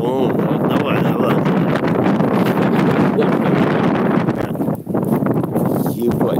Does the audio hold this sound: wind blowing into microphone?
yes